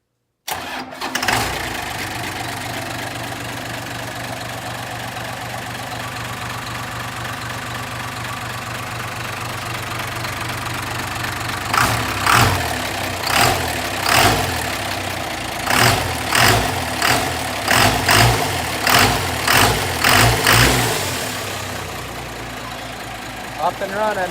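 A 1993 Cummins diesel swapped into a 2003 Dodge truck that originally had a Hemi cranks, fires and settles into a loud, steady, close idle, then a run of rhythmic revving bursts follows.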